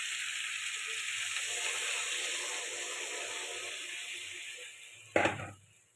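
Potatoes and pointed gourd sizzling in spice paste in a pan, a soft steady hiss that slowly fades, broken near the end by a brief louder burst of sizzle and clatter.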